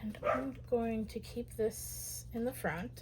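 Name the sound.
dogs barking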